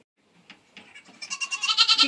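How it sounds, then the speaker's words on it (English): A billy goat on a farm gives a few short bleats, then breaks into a loud, wavering, pulsing bleat that grows stronger toward the end. The animal is close and no one speaks. "Get that big old billy goat."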